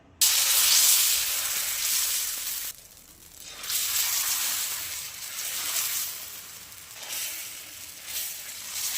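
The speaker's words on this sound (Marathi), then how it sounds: "आपण आहे ना थोडंसं पीठ टाकून घेऊया त्याच्यावर." Sago and barnyard millet dosa batter hits a hot pan with a loud, close hiss and sizzle that swells and fades in waves, briefly quieting in between. No voices are heard.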